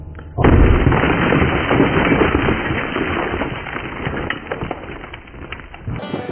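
Mini dynamite blasts a boulder too big to lift at a placer gold site: a single loud, close detonation erupts with a deep boom, then a rumbling, crackling tail of falling debris fades over several seconds.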